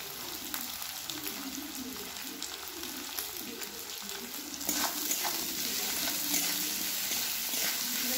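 Capsicum and baby corn fry lightly in a pan. A steady close sizzle runs under soft stirring scrapes and grows a bit louder partway through.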